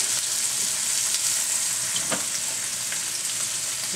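Onions sizzle on a grill beside a ribeye steak, a steady close hiss of frying with a few brief pops, continuous and alone.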